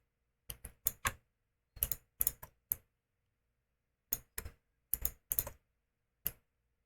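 Computer keyboard keys pressed in a level editor, sharp isolated clicks in short bursts of two to four with pauses between, close and clear in an otherwise silent room.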